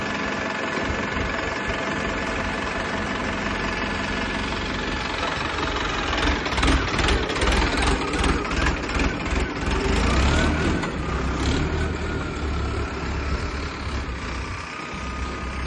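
Tractor engine idling at a farm while urad is being loaded, a loud, continuous, steady rumble close by that rises slightly midway.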